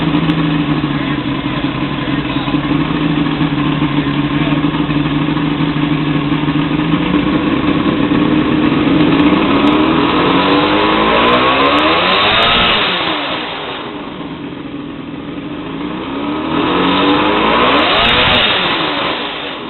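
A boat's inline six engine running after an ignition coil and starter solenoid replacement, loud and close, holding a steady drone before dipping and rising again in revs.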